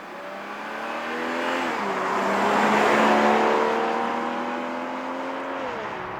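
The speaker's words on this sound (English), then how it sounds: "It's time to drive the 2026 Toyota Supra Final Edition." A 2026 Toyota Supra Final Edition drives past with a rising, then falling engine tone as it accelerates and shifts gears, swelling louder midway and easing off toward the end, with no speech.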